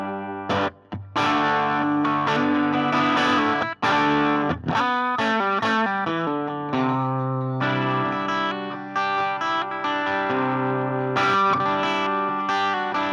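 Clean electric guitar played through a Marshall Origin 5C single-channel amp, a sparkly tone ringing out in strummed chords and picked notes with sustained, shimmering harmonics, loud and alone without voices.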